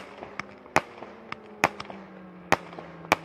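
Fireworks burst at a sidecar world championship celebration at the Sachsenring, a string of sharp cracks and bangs at irregular intervals, several loud and some fainter, over a low background hum.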